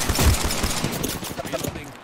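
Rapid gunfire crackles through an arena battle in a video game, dense overlapping bursts in a loud, steady barrage lasting about two seconds, with a voice partly audible beneath the shooting.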